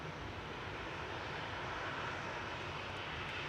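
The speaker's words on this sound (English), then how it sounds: "Taking Jet2 flight 875 out to Faro. It's A330-200. Operated by Air Tanker." A Jet2 Airbus A330-200, operated by Air Tanker, runs its engines at an airport, a steady broad jet roar heard at moderate distance, unbroken and without voices.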